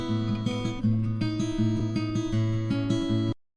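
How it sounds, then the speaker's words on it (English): Unprocessed acoustic guitars strum chords in a mix, warm and full in the low mids with a steady rhythmic pattern, then stopping abruptly. "let's take these acoustic guitars as an example here"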